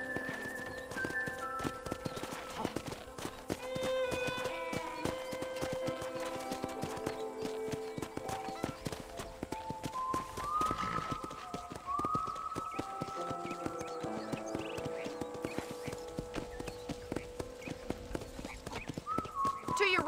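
Horse hooves clip-clop at a steady, rapid trot across a dirt ranch path in the video game Red Dead Redemption, continuous and fairly close, while people converse over them.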